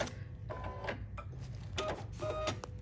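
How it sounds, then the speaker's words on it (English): A computerized embroidery machine stitches an appliqué flower petal, a quiet mechanical whirring with short bursts of rapid needle chatter and motor hum, heard close with no talking. "It's meant to be an embroidery machine, which means everything is automatic, but it's slower than my slightly less fancy Bernina."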